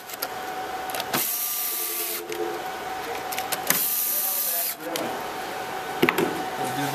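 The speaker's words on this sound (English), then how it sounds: "to tighten these down, I'll use my screwdriver." A screwdriver tightening screws on a ProLiant DL380 G5 server system board, with a few bursts of close whirring and grinding turns, separated by short pauses.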